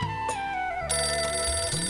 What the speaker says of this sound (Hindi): अरे भाई, कौन है जो इतनी सुबह सुबह फोन कर रहा है?